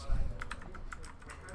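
Fingers tap out a quick run of keystrokes on a faulty computer keyboard, several light clicks close by, with low voice-like murmur underneath.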